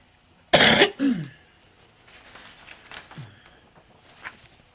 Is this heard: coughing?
yes